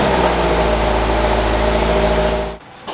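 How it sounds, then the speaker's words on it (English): A manual Toyota GR86 with its stock exhaust runs at a steady, low, even idle after a cold start, a smooth engine drone that cuts off abruptly near the end, followed by a brief soft thump. "take a listen to the cold start now, well, somewhat of a cold start with this stock exhaust"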